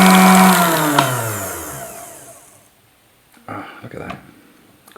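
A motorized mixer blends homemade mayonnaise with added pepper, giving a loud whirring whine that slows and falls in pitch as it winds down, followed by a few brief clunks.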